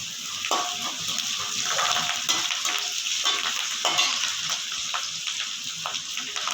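Curry leaves and green chilies spitting and crackling in hot oil for semolina upma, a dense continuous sizzle with scattered pops and light stirring scrapes, no voices.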